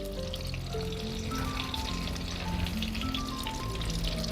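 Garlic sizzles and crackles in hot oil over a wood-fired stove, a steady dense frying hiss with scattered pops, close up and without talk.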